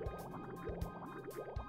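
Water filling a pipe system in the video game Oxygen Not Included: gurgling, squishy liquid sounds with rhythmic dripping bursts, moderately quiet and continuous, with no voices.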